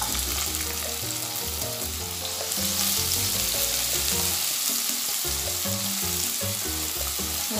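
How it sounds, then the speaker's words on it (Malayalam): Bitter gourd fries in hot oil in a pan on the stove, giving a loud, continuous sizzle with stirring scrapes and crackles running throughout and no talking. "പാവയ്ക്ക ഇട്ട് കൊടുക്കാം അല്ലേ."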